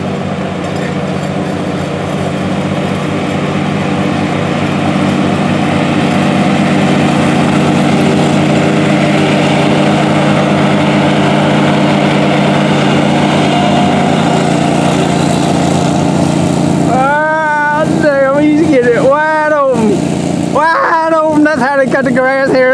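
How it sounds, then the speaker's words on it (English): A lawn mower engine runs in a steady, loud drone on a Missouri farm road, with someone talking excitedly over it near the end. "That motor, that lawnmower got a wing on it!"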